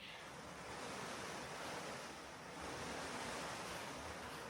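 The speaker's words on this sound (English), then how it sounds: "It's now pouring." Heavy rain pours outside on a Scottish island, making a dense, steady hiss with broad noisy wash and slight swells in intensity, no voices over it.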